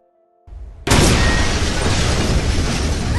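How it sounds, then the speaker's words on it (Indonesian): Bomb explosion at a police station: after a short quiet tone, a rumble builds, then a sudden loud blast erupts into a sustained, roaring, crackling wash of noise that carries on steadily. "terdapat ledakan bom sebagai peringatan pertama untuk Himura"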